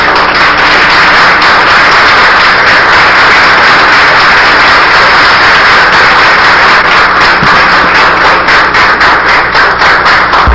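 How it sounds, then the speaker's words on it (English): A church audience stands and applauds to welcome a speaker, loud, sustained clapping from many hands filling the hall, continuous and close, with individual claps growing more distinct toward the end. "would you please stand and give a warm, welcoming applause for Brother Runoko Rashidi."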